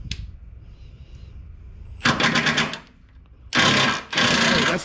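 Ratchet working a bolt on a Dodge 3.5 L engine, rapid clicking bursts in close succession: one long burst, a pause, then two more loud bursts close by.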